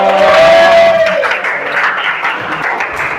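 Classroom applause for a student, broad dense clapping from the class starting loud and settling into a steady patter over the full three seconds, with a voice briefly audible at the start.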